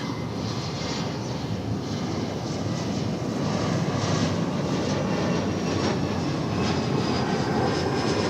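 An American Eagle Embraer E-Jet airliner arriving at DFW Airport from Bismarck gives a loud, steady jet-engine roar that holds unbroken throughout, with no talk over it.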